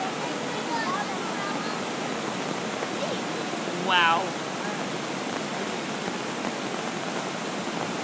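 Floodwater rushes through a swollen backyard creek over submerged rocks, a steady broadband roar that fills the whole clip, with a short exclamation from a person partway through.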